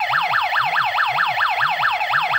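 A PLT850 portable gas analyzer sounds its low-oxygen alarm, a loud, close electronic siren that sweeps up and down in rapid, regular cycles with no pause.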